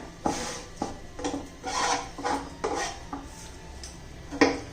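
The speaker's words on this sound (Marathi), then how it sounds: "या भाकरीमध्ये मी असं बारीक चुरून घ्यायचा" Jaggery crumbled finely by hand into bhakri flatbread, heard as repeated close rubbing, crunching scrapes with a few light knocks against a plate, in an uneven rhythm.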